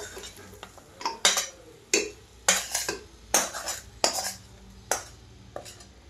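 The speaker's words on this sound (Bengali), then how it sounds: "এবার আমি এটা কুকারে দিই। আস্তে আস্তে করে আমি এটা নামাবো।" A metal ladle or spoon scrapes and clinks against a kadai or cooker as fried lentil dumplings are moved into a pressure cooker, about ten sharp, irregular clattering strikes, close and fairly loud, with no talk.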